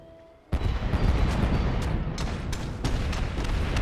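Warship cannons open fire in Leviathan Warships, a sudden heavy boom followed by a sustained, loud rumbling roar with smaller cracks scattered through it.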